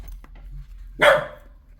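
A dog named Goliath gives a single sharp, loud bark up close, following a quiet indoor stretch with a faint hum.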